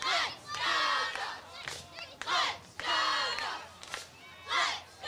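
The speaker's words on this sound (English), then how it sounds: "Cheerleaders are getting this crowd amped up." Cheerleaders lead rhythmic chants at a high school football game between Hampton-Dumont-CAL and Oelwein, with loud, repeated bursts of a crowd of voices shouting in unison and brief pauses between each chant.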